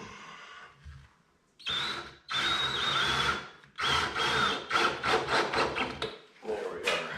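A power drill whines and grinds into wood in several close, loud bursts, pausing briefly between each.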